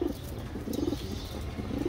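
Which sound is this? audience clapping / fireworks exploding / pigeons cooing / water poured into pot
pigeons cooing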